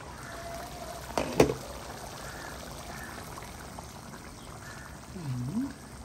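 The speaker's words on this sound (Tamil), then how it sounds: "வாங்க இதுக்குள்ளே பாலை விடுவோம்." Milk goes into a pot of Jaffna mutton curry in a short, close splashing pour over a quiet kitchen background, followed by a faint liquid gurgle a few seconds later.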